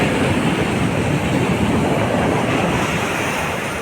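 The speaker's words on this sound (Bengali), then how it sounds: "কি সুন্দর ঢেউ দেখেছেন, দেখতে খুব ভালো লাগে।" Sea waves at Digha beach at dawn, a steady broadband wash of surf with continuous roar and no distinct breaks, fairly loud and close, with wind mixed in and no talking.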